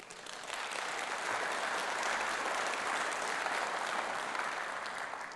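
Sustained applause from a crowd at the Conservative party conference, steady and full throughout, many hands clapping at once with no voices standing out.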